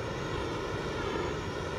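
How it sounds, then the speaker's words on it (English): A helicopter in a battle royale video game drones steadily, a quiet continuous rotor and engine hum lasting the whole brief moment with no talk. "Oh, there's a helicopter."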